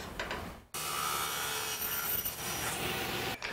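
A saw cuts a miter on a wooden frame piece. After a short lead-in, a continuous, even rasping cut runs for nearly three seconds before stopping abruptly.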